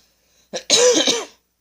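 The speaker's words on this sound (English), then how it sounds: "I feel another coughing fit coming on" A brief throaty cough followed by a longer, raspy hacking cough, close and fairly loud, then silence.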